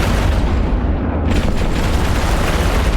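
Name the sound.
rockets firing in the video game EVE Online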